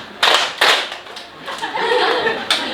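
Classroom of students doing a rhythmic tolerance clap: a few loud, sharp group claps, then a stretch of chanting and chatter from the class, with one more clap at the end.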